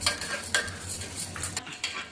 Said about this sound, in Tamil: மிளகு சீரகம் கொஞ்சம் வறுபட்டதுக்கப்புறம் துவரம்பருப்பையும் போட்டுக்கலாம்.